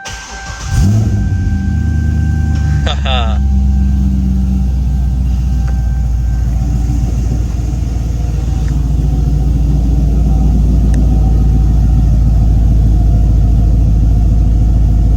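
A Chevrolet C6 Corvette V8 starts with a sharp crank and catches into a loud, deep, close rumbling idle that holds steady with slight swells in revs.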